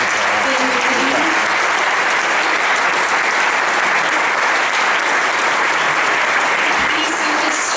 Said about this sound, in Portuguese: pedi uma grande salva de palmas para eles